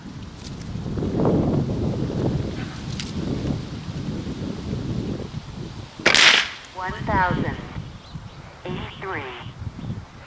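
A single sharp rifle shot cracks out amid wind noise and outdoor rustle during a scope test at 25 meters, with someone talking before and after the report.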